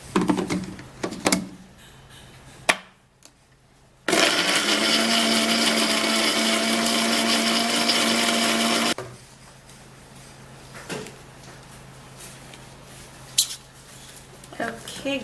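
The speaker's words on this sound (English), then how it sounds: "Then we'll have to blend it really smooth." A blender whirs loudly and steadily for about five seconds while pureeing cucumber pieces until smooth, with quieter kitchen clatter before and after.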